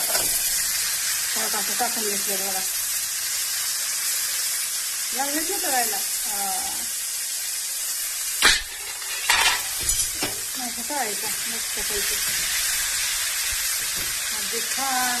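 Whole green chillies crackle and sizzle as they fry crisp in hot oil, a loud continuous hiss with a cluster of sharp pops and spatula scrapes in the middle while someone talks briefly over it.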